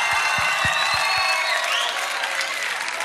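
A live TV talent show audience applauds loudly and continuously, a dense wash of clapping from a large crowd with a few distinct claps up front and brief crowd noise under it.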